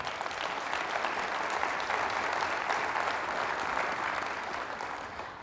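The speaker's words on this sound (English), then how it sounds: "I think you should give yourselves a round of applause on that one" A convention audience at Optimist International gives steady, sustained applause, a dense wash of clapping that holds evenly for several seconds and then gently fades, with no speech over it.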